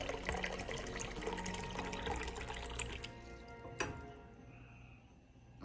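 Water runs steadily from the spigot of a Berkey gravity filter system into a container for about three seconds, then stops, followed by a brief clink and quiet room tone.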